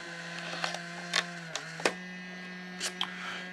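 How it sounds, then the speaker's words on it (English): A FUJIFILM instax Share SP-3 instant photo printer runs with a steady low motor hum, broken by a few quick clicks and mechanical ticks as it feeds and prints, close and quiet. "it's just printing, and it's actually printing really fast"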